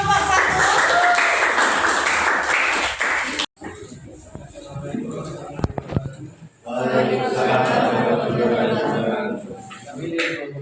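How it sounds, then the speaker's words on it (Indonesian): A classroom group applauds for the first student group, the clapping rising broad and dense for about three seconds, then returning more loosely after a quieter stretch with voices in between. "berikan tepuk tangan untuk kelompok 1"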